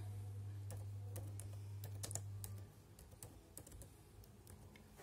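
Keystrokes on a computer keyboard while writing in LibreOffice Writer, a rapid irregular run of close clicks and taps heard alone over a steady low hum that cuts out midway.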